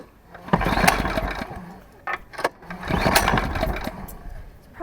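A snowblower's small engine sputters and briefly catches during pull-start attempts, with loud, uneven bursts of combustion and rattling close by.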